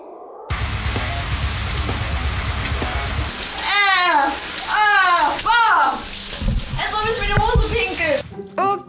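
Shower spray runs steadily onto a person standing under it fully clothed, a constant hiss of falling water with squeaky, sweeping handling sounds over it, broken off abruptly near the end.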